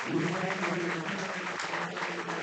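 A baseball crowd at a youth tournament game claps steadily and loudly, a dense wash of applause that holds throughout with no voices standing out.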